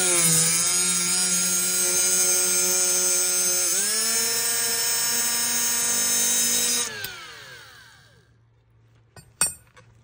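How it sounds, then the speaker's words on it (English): A tungsten electrode is ground against a 220 grit, 2-inch diamond quick-mount abrasive wheel on a grinder, giving a loud, steady high whine with a pitch drop partway, then spinning down to silence. "So that's where I ground the tungsten just past that point of contamination"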